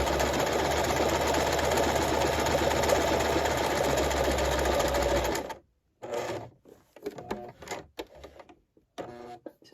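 A sewing machine stitches a buttonhole into fabric with a steady, loud mechanical whir for about five seconds, then stops abruptly, leaving soft handling clicks and rustles.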